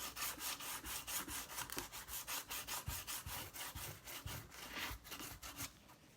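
Sandpaper rubbed back and forth over painted wood, a fast, even rasping rhythm of close strokes that carries on without pause and with no talking.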